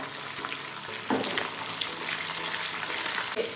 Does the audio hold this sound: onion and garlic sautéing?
yes